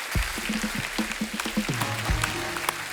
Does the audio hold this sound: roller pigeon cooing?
no